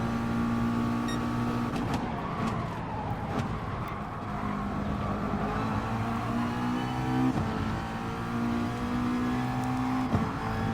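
A race car engine in GT Sport at Interlagos drones and revs continuously, its pitch rising and falling through gear changes and corner exits, with other cars audible nearby.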